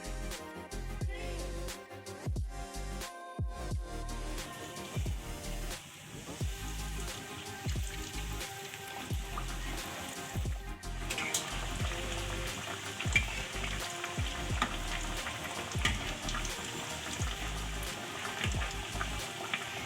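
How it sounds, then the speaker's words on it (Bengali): Chicken cutlets frying to a deep golden-red in hot oil, a steady crackling sizzle with dense popping bubbles that swells louder in the second half, with no talking. "আমি লাল করে ভেজে নিচ্ছি"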